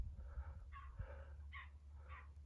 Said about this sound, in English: that's a dog barking in some sort of holiday chalet.